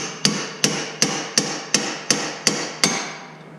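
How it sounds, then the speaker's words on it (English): A hammer strikes a steel tie rod separator fork on a Porsche eight times in a steady rhythm, each hit a close, bright metallic clang with a short ring and no voices. "I'm gonna go ahead and just start beating on this thing a little bit, and hopefully we can get her separated"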